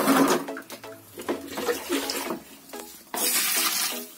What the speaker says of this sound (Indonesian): Ya sekarang kita kasih air.